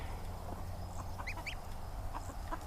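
A newly hatched gosling, cold and weak, gives a few faint, high peeps in short bursts over a steady low background hum.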